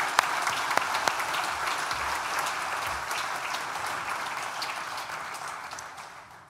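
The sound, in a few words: graduation ceremony audience applause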